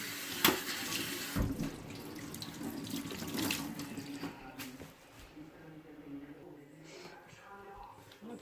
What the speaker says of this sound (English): Just run all your water over it.